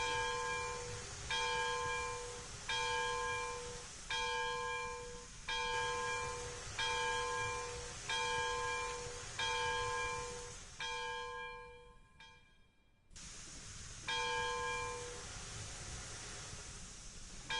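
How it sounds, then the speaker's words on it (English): A locomotive bell rings repeatedly in the train simulation game Railroads Online, a steady metallic clanging about once per second over rushing engine and wind noise, briefly cutting out before resuming. "don't know why the bell is ringing."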